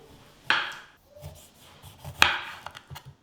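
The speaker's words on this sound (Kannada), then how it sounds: "ಫಸ್ಟು ಲೆಮನ್ನ ಸ್ಲೈಸಸ್ ಆಗಿ ಕಟ್ ಮಾಡ್ಕೊಳ್ಳೋಣ." A knife slicing through lemon on a cutting board: two sharp, close cuts with a juicy crunch, separated by softer rubbing and small knocks.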